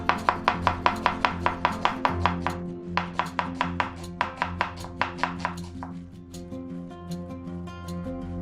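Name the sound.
chopping onions with a knife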